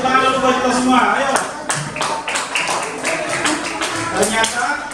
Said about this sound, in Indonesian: sekarang kita tepuk tangan dulu buat kita semua